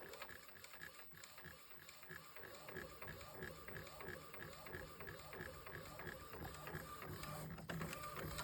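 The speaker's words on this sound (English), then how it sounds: "let's watch the printer do its job" A DTF printer laying down a transfer runs with a rapid, steady mechanical clatter of the moving print head, faint and continuous, growing slightly louder toward the end.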